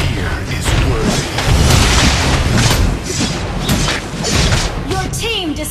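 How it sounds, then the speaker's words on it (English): A turret blowing up in a mobile battle-arena game, a dense booming crash spread through busy game noise, with announcer-style voice lines and effects around it. "Your team destroyed a turret!"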